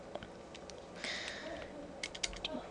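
Keyboard typing during a Python tic-tac-toe session, with faint scattered clicks and a short cluster of keystrokes under a steady background hiss.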